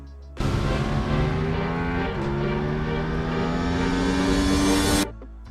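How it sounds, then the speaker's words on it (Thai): Close, loud engine note from a Yamaha YZF-R7 with its CP2 twin, rising steadily in pitch for about five seconds as revs climb, then cutting off abruptly. "พร้อมปิดท้ายด้วยเสียงเครื่องยนต์ CP2 ให้เราได้ฟังกันก่อนที่จะตัดขึ้นโลโก้ R/World"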